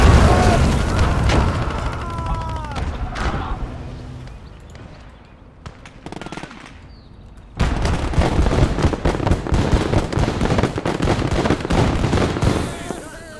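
Booming explosions from bombs and artillery in a war video game battle on a southern front, dense repeated blasts and rumbling impacts at moderate loudness, easing off mid-way before a sudden heavy burst of further explosions.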